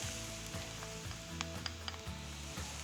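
Garlic sizzles and fries in a pan with onions and artichokes, a steady close hiss with light stirring scrapes and small pops throughout.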